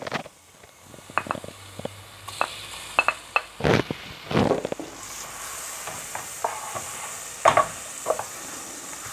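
Butter melts in a pan of browned onion, giving a soft, continuous sizzle broken by several loud scraping, clattering stirs of a utensil against the pan.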